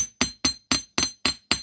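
A chasing hammer strikes metal seven times in a steady, quick rhythm, each blow a sharp, close, ringing tap with no talking.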